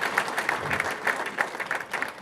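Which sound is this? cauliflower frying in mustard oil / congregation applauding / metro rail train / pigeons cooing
congregation applauding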